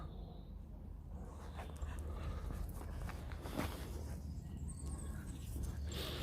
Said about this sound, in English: You have to excuse me, these dogs are playing up